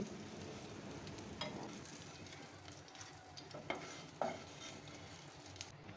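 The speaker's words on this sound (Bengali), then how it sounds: "মাছ ভাজা তেলের মধ্যে দুটা পেঁয়াজ কুচি করে কেটে দিয়ে হালকা করে এখন ভেজে নিচ্ছি" Chopped onions frying in oil left from frying fish, a steady soft sizzle with occasional stirring scrapes and clinks of a utensil against the pan, with no voices.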